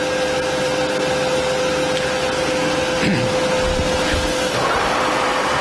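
A Harrison M400 lathe with a 2.2 m bed runs at a steady pitch, a constant mechanical whine and hum with faint rattles, close and even throughout.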